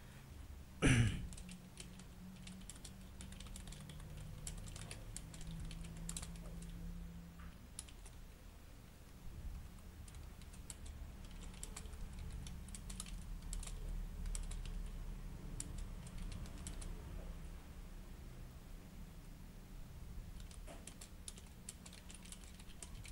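Quiet, steady keystrokes on a computer keyboard while a multiple-choice question is typed into a Word document. One sharper click comes near the start, then continuous soft typing runs throughout.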